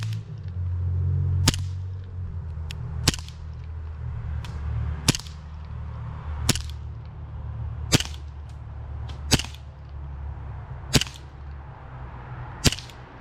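A John Wayne 1911A1 WWII distressed-finish CO2 BB pistol fires nine sharp, evenly spaced shots about every one and a half seconds, each a crisp snap over a steady low hum.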